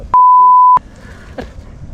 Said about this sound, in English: I'm going to have to add a beep in there.